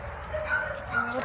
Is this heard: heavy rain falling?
no